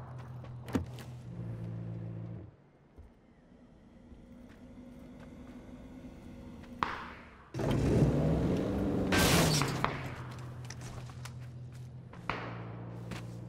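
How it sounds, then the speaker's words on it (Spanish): Car engine droning nearby in the video game PUBG, a steady mid-level rumble that drops out briefly, then surges louder and closer for a few seconds before settling back. "¿Les escucho por aquí como un coche?"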